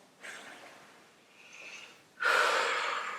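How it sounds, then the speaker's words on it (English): Deep breathing during yoga practice: a soft inhale and a gentler second breath, then a strong, close, airy exhale that lasts about a second; no talking. "One more breath."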